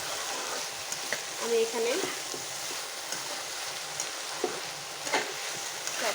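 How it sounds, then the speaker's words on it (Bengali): Fish and taro stem chachhari stirred in a pan, with steady frying sizzle and a few scraping strokes of a spoon against the pan, while someone says a few words. "এখন ভালো করে নেড়ে নেব"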